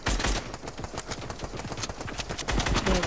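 Rapid automatic gunfire from a Fortnite match, a dense continuous burst of shots lasting about three seconds, loud and close with no talking over it.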